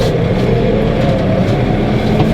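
A turf aerator's engine runs loud and steady with a constant low mechanical drone and rumble that holds at one level the whole time, with no talk over it.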